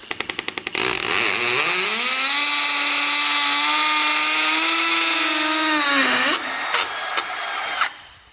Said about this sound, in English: I can drill in for the anchors